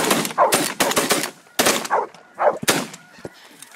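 Rapid shotgun blasts ring out during a dry field duck hunt, several loud sharp reports in quick succession and close by, mixed with honking and quacking duck calls between the shots.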